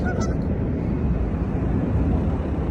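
Geese honk briefly in the distance over a steady low rumble of background noise.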